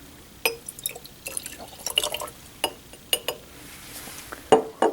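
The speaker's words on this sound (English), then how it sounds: "we're going to make a color comparison blank by adding 50 ml of DI water to another flask" Deionized water poured into a 125 ml glass lab flask, giving faint, scattered drips, splashes and glassy clinks in a quiet room.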